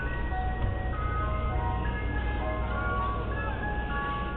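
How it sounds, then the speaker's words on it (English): Ice cream truck jingle from a Mister Softee van, a bright looping tune ringing out continuously above a steady idling engine hum, nearby and uninterrupted by voices. "now they bring the ice cream truck"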